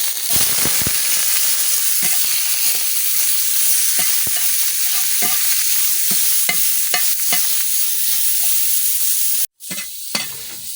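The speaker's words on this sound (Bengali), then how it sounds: "এই যে আমি খুব সুন্দরভাবে লাল লাল করে বাজিয়ে নিচ্ছি" Salted hilsa fish fries in oil until reddish, a continuous close sizzle broken by repeated stirring clicks and scrapes, with a brief sharp clatter near the end.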